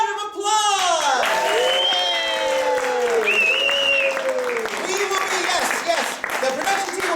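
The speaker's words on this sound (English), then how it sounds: "Give them a round of applause." Audience applause breaks out for the winning couple at an improvised theatre game show, steady and loud over about seven seconds while voices and singing-like tones ride on top.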